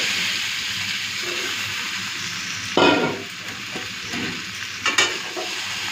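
Potatoes, soybean chunks and fried egg are stir-fried in a pan with a constant sizzle. A few louder scraping stirs break through, and there is no talk.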